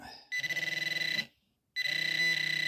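A Garrett Pro Pointer pinpointer held close to metal, letting out a loud, shrill, warbling electronic tone that sounds steadily, stops briefly and then resumes, close up with no talking.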